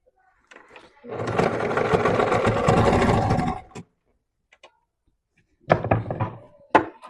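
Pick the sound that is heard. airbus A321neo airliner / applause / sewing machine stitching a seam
sewing machine stitching a seam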